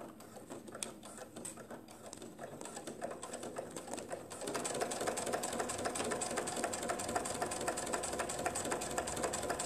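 A sewing machine runs steadily as it stitches red fabric with red thread, a dense mechanical whir that grows louder and faster about halfway through and then holds an even, rapid rhythm, with no talking.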